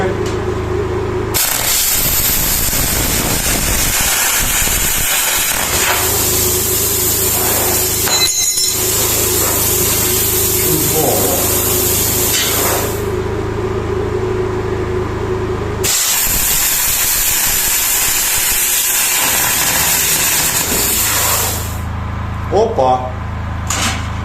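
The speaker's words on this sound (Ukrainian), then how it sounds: "дивіться, плазморез плюс компресор вибило." A plasma cutter and air compressor run together on a generator, making a loud, harsh hiss with a low hum beneath. The noise cuts out twice, briefly and then near the end, when the load trips, and voices are heard at times.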